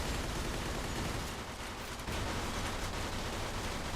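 Enemy gunfire in the Mafia 2 video game, a dense continuous fusillade of rapid shots from several guns, loud and sustained with no pause for the whole stretch.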